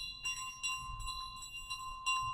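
Repeated dings of a small hand bell in Untitled Goose Game, about six strikes in a steady rhythm with a sustained ringing tone, clear and alone.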